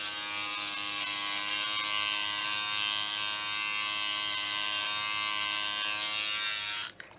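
A men's electric body shaver with a comb attachment buzzes steadily and loudly up close while trimming, then cuts off abruptly near the end.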